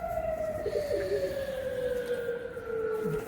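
A pigeon gives a few soft coos beneath a steady high whine and background hum, fairly faint and intermittent.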